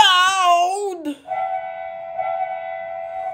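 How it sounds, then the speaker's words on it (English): A train passes, its horn sounding in a steady multi-tone chord held for several seconds after a brief babbling voice at the start, fairly close and loud. "Yeah, a train."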